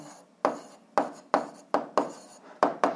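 Pen or pencil writing out an answer to an algebra word problem on paper, a series of about eight quick scratchy strokes at an uneven rhythm, close and fairly quiet with no voices.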